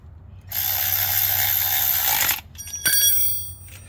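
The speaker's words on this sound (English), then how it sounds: "I'll double check it with the ratchet and the socket" Socket ratchet tightening a bolt on a 30-inch Toro TimeMaster mower, with a long steady metallic buzz followed by a few sharp clicks and clatter, close up, with no talk.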